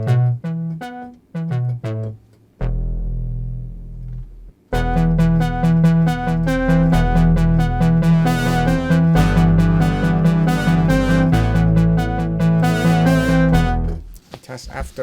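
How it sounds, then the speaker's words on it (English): Kurzweil K2500 synthesizer playing its original patch 25, Simpleton, with short plucky notes followed by a dense, rhythmic sequence of bright tones that plays loud and alone for most of the passage. "one of my favorite K2500 patches is 25, which is simpleton"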